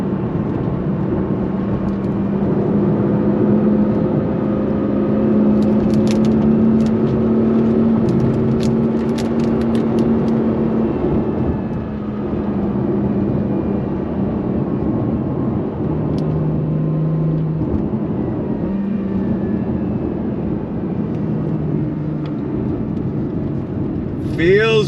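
A 2022 Acura NSX Type S supercar driving, with a steady engine drone and road rumble heard from inside the cabin, varying slightly in pitch as it moves along.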